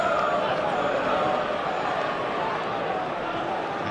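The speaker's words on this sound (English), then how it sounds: "A crowd that is expectant" Expectant, noisy football crowd at a Premier League match between Arsenal and Newcastle United on a crisp day, a steady broad roar filling the stadium throughout with a commentator's voice faintly under it.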